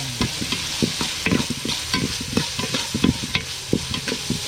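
Dried anchovies (dilis) frying with tomato and onion as the base for monggo, a steady close sizzle broken by repeated scraping stir strokes in the pan, with no talk.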